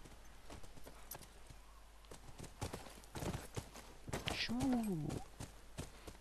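A horse's hooves clip-clop in The Last of Us Remastered, scattered sharp hoof strikes at a moderate pace with a whinny-like tonal sweep near the end, mixed with someone talking.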